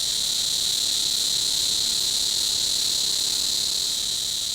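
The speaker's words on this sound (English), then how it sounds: "the cicada" A cicada, billed as the loudest insect, gives a steady, piercing, high-pitched drone that holds unbroken and loud throughout, with no other sounds or voices.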